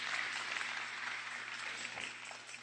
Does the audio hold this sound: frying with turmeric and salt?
no